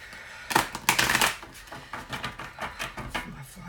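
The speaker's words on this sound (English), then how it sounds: "I'm going to do 3 shuffles on this for you guys." Tarot cards are shuffled in quick riffling bursts, a papery flutter with light tapping, close by and alone.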